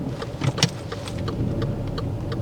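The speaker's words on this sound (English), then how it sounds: "let's see how quickly you can just move the car" A learner driver's car moves off with a low engine hum and rumble, with rattling clicks and jangles inside the cabin over a steady road noise.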